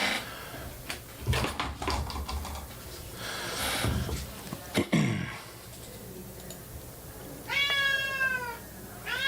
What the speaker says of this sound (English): They can hear this cat whining on stream.